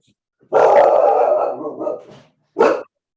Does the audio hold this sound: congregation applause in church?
no